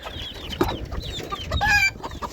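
Porcelain-breed chickens cluck in a farmyard coop, with a run of short, bright calls and one louder, drawn-out squawk near the end, close by and with no talk.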